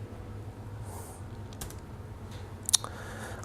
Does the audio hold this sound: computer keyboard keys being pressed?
yes